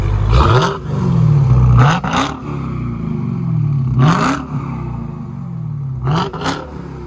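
A 2021 Dodge Hellcat SRT Widebody with a 6.2L supercharged Hemi V8 and dual exhaust revs three times, each loud, close blip rising to a roar and falling back to a deep rumbling idle, with no voices.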